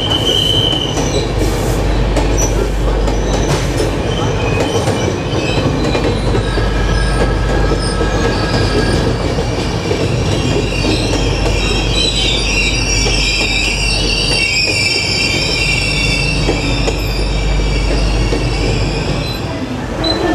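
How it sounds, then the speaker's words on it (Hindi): The Mumbai–Jabalpur Garib Rath Express pulls out of Dadar station, its wheels squealing and clattering over the rails in a loud, continuous rumble heard from close by, with no voices over it. "तीन मिनट के हॉल्ट के बाद अभी दादर स्टेशन से ट्रेन डिपार्ट हो रही है।"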